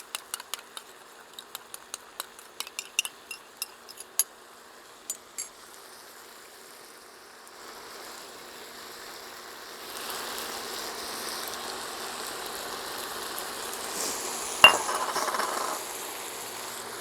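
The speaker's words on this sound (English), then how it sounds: "And we'll just stir that together." A metal utensil clinks rapidly against a bowl while ricotta cheese and beaten eggs are mixed, a run of sharp close taps that thins out and gives way to a soft, steady wet churning.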